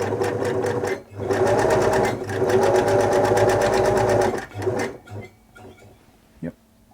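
A 1974 Singer Genie 354 sewing machine runs a straight stitch through fabric at a length setting of 3, a loud steady mechanical whir in bursts of a few seconds with brief pauses, then stops as a few faint clicks follow.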